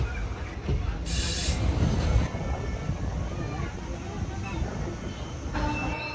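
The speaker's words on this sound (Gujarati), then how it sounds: "સુરેન્દ્રનગરથી ટ્રેન ઉપડી ગઈ છે." A train rolls along from Surendranagar toward Bhavnagar in Gujarat with a steady, broad rumble and rushing wind noise, continuous throughout.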